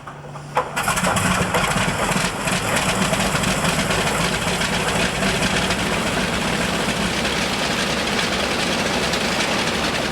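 One engine of a Boeing 707 spools up on start, a dense roar of rushing, whining noise building quickly and holding steady and loud throughout, with no talk.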